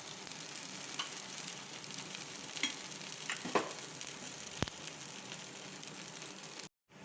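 Rava kuzhi paniyaram sizzles steadily in oil in a paniyaram pan, a close, even frying hiss with occasional light ticks and scrapes, and no talking.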